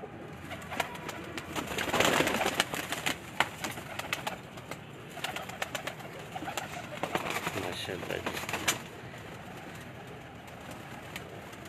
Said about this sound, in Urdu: لو جی یہ سب پروازی کبوتر ہیں ان کے